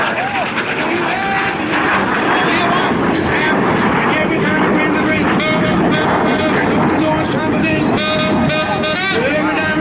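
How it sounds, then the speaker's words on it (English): A Sabreliner business jet flying a low parade pass at the 2013 Reno Air Races, a loud continuous jet roar with wind rush, sustained throughout. "as this parade pass gives you a great view to capture not only the Sabreliner, but Bob and Old Yeller all in one shot"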